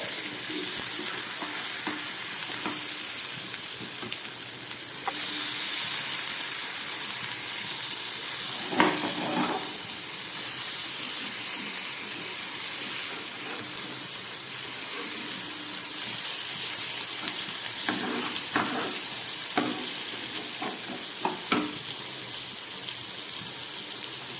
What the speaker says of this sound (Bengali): দেখুন মশলা ভাজা হয়ে গেছে, মাছও ভাজা হয়ে গেছে।